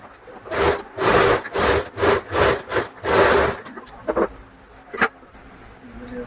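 Sewing machine running a double line of stitching on blouse piping, in several short, loud bursts of whirring, close up, with a few clicks and pauses between runs.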